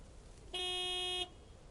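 A single truck horn blast in the video game Lake, a steady tonal honk lasting under a second, clear against a faint background.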